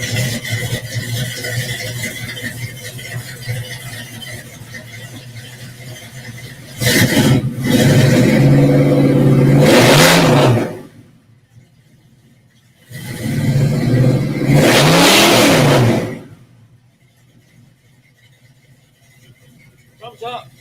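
A classic car's engine revs in two loud bursts, each about three seconds long, with a steady idle and a shop backdrop between them. The bursts rise and fall in pitch.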